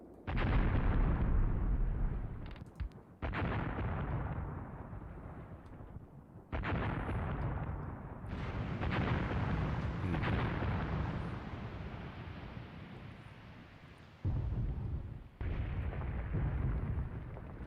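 Gunfire and explosions from the war game Graviteam Tactics: Mius Front: loud, heavy blasts and booming bursts that roll on almost continuously, with short gaps between bursts and no voices.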